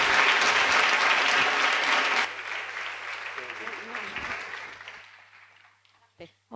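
Loud audience applause at a talk fills the room, then tapers off after a couple of seconds into fading scattered claps as voices begin talking.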